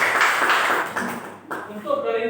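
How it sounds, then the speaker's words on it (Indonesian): Students in a secondary-school maths classroom clap briefly for a group that has just presented, a short burst of scattered hands, with speech-like sounds in the room. "Oke, baik, dari kelompok ini sudah menjelaskan, beri tepuk tangan."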